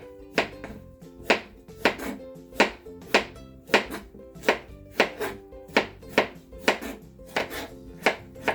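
A knife chops vegetables for tonjiru, a Japanese pork soup, on a cutting board. The strikes are sharp and evenly paced, about two every second, and sound close with no talk.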